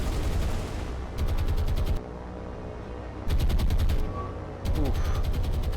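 Naval anti-aircraft guns in the War on the Sea video game firing at attacking aircraft: loud, rapid automatic bursts in three long strings separated by short gaps, over a dense rumbling battle background.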